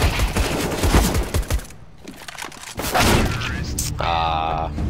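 Rapid gunfire from a Counter-Strike match, dense bursts crackling through the first seconds and again later, mixed with game effects while a player talks over it.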